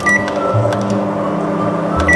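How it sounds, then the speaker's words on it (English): A microwave oven hums steadily while heating a bowl of instant ramen noodles with an egg, a continuous mid-level drone with a few faint clicks and no talking. "Now we're going to put it back in the microwave for"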